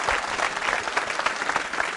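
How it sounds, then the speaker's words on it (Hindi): An audience at a school quiz show at Mahaveer Public School claps in a steady burst of dense, even applause that lasts the whole moment. "तालियां जोरों से बजाइए आकांक्षा के लिए"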